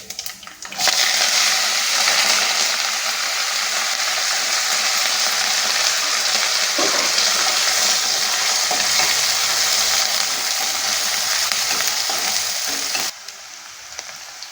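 Sliced onion, green chilies, dried red chilies, cumin and curry leaves fry in hot oil with a loud, close, steady sizzle that starts abruptly and runs for several seconds before cutting off.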